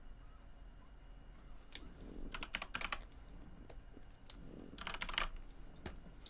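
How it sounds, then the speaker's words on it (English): A loud computer keyboard clatters nearby in two quick bursts of rapid typing, separated by a short pause with a few isolated key clicks, with no talking. "How loud is my keyboard?"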